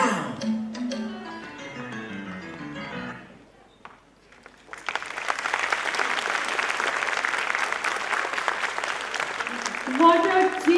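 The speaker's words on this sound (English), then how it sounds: "Give them a huge round of applause" Applause from an audience at a preschool annual day, following a children's dance performance, swells into dense sustained clapping after a brief lull, with music fading out beforehand.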